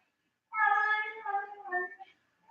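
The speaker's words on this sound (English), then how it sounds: "You hear my cat? He's gonna fucking throw up." An old cat making strained, drawn-out yowling sounds as it retches before throwing up, a close harmonic wail of about one and a half seconds that breaks into shorter gagging bursts.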